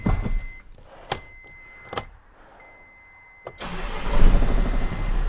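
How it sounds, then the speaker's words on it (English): A car engine cranks and catches after the ignition is switched off and back on, preceded by a few sharp clicks and thumps, then a loud, rough running idle close by. "turn ignition off, turn ignition on"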